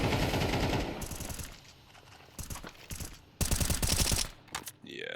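Automatic gunfire crackles in bursts on the Nuke map of Counter-Strike during a professional esports match: a long rattling volley, then several short, sharp bursts separated by quieter gaps, loud and close.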